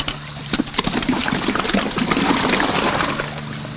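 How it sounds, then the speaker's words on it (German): Pears splashing and sloshing as they are washed in a water bath, with continuous close trickling and churning water throughout, no speech. "schmeißen das andere ins Wasser und dann werden sie gewaschen"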